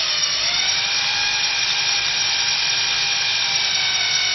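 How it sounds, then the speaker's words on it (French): A power tool spins at about 5000 rpm while lapping a part of a Pilter No. 5 hydraulic ram with fine grit, giving a loud, continuous high-pitched whine with a gritty rubbing edge and no pauses. "Rodage au grain fin maintenant."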